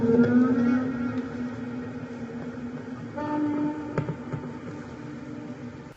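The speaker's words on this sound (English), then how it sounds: "the stool would make this really weird haunting sound that happened to be in the same key as the song" A creaking drum stool, drenched in reverb, gives a weird haunting moan in the song's key: a wavering tonal drone with eerie overtones and a few faint knocks, moderately loud and alone.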